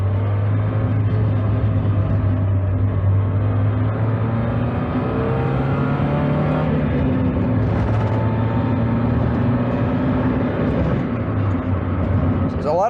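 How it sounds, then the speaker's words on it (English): A Mazda Miata with an exhaust leak driven with the top up, its low engine drone and exhaust rumble steady throughout, with subtle shifts in pitch as the car moves. "I think it's just an exhaust leak."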